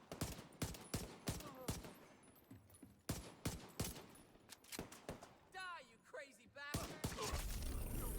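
Gunfire in the video game The Division 2, sharp rapid shots in irregular bursts, loud and close, with a brief stretch of voice and scattered clicks between volleys.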